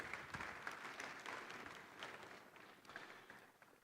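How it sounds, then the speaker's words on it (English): Audience at the 30th Afreximbank Annual Meetings in 2023 applauds a former Prime Minister of Ethiopia on stage, a dense, steady wash of many hands clapping that fades slightly toward the end. "A round of applause, please."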